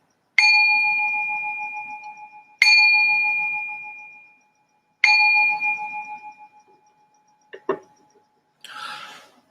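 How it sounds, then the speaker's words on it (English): A meditation bell is struck three times at a slow, even pace, each ring clear and close, with a long shimmering tone that fades out; a couple of faint handling knocks and rustles follow. "I just ring this bell to signal the beginning of meditation."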